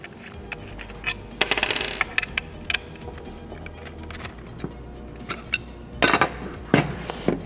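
Allen key unscrewing the motor pod on a TakeOff Flow, heard as scattered metallic clicks, taps and clinks close by, with a few sharper bursts of rattling toward the end.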